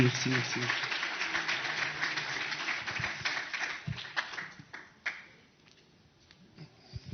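An audience applauds an award winner at the Med'Innovant Africa & Provence Africa Connect ceremony: dense clapping for about five seconds that thins to scattered claps, with voices speaking through it.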